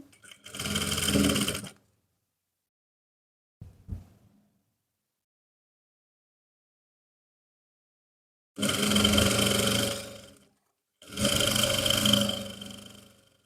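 A sewing machine stitches the hem of a trouser leg in three bursts, a short run, then two longer ones close by, with quiet pauses and a brief handling knock between them.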